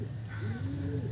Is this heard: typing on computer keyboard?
no